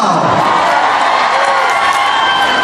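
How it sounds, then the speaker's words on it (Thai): A large crowd at a celebrity fan meeting in a shopping mall claps, cheers and whoops together, a loud continuous roar of applause and shouting with no pauses. "ปรบมือนะครับ"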